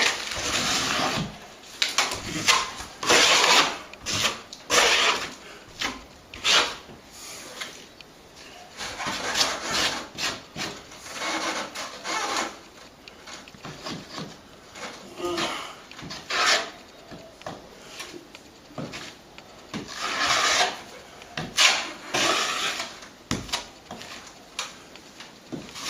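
Back plaster being scraped away along a crack in a plaster ceiling, loud close rasping strokes in irregular bursts with brief pauses between them, and no talking.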